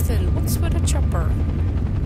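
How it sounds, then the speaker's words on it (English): A helicopter in a video game gives a loud, steady rotor rumble that fills the whole moment, with sharp bursts of gunfire or impacts cutting through the drone. "With a chopper."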